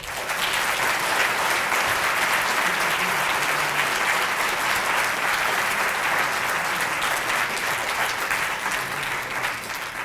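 A large audience claps steadily and loudly for about ten seconds to welcome author Richard Powers at a talk on The Overstory, a dense, even wash of applause with no voices.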